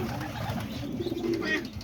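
Pigeons in a loft with a white pigeon and young babies give low, soft cooing that runs steadily through the whole short stretch, fairly close, with faint rustling and a few higher chirps near the end.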